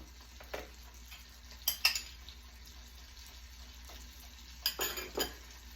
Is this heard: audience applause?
no